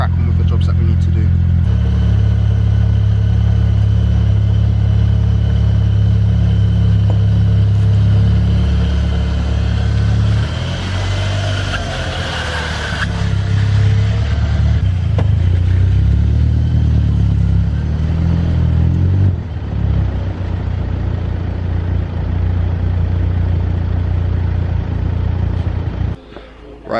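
A VW GTI turbo car engine idles and runs with a deep steady rumble while the car is moved, the low drone shifting pitch midway, close and loud with people talking over it.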